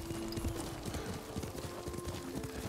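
Horse hooves clip-clop steadily at a riding pace, a rhythmic series of soft thuds over a constant outdoor background, with no talk.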